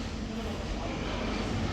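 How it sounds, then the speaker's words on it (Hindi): A Royal Enfield Classic 350 Reborn motorcycle engine starts and settles into a steady, close idle, with a continuous low rumble and no pauses. "ये बाइक हो गई ऑन"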